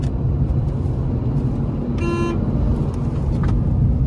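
A Renault Kiger turbo pulling hard into its turbo range, with a loud broad engine and road roar filling the whole stretch and a brief car horn toot from traffic partway through.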